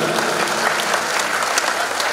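A seminar audience breaks into dense applause, many hands clapping at once in a steady, continuous wash that fills the hall.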